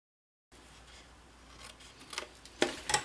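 Scissors snipping the outside edge of a paper gift box, a faint rubbing start building to three or four crisp cuts near the end, close and alone without speech.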